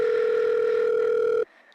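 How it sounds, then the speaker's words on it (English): A telephone sounds one loud, steady electronic tone lasting about a second and a half before cutting off abruptly into near silence. "Better pick up the phone this time."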